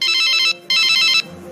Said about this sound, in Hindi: तो इनकी बेटी का फोन आ ही गया।